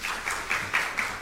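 Audience applause at an art information seminar, a short burst of moderate clapping from a modest crowd in a hall, pulsing slightly, with no voices on top.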